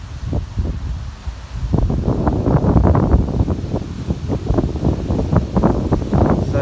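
Strong wind buffets the microphone beside a lake, a loud, close, continuous rumble with rapid gusty pulses throughout and no talk.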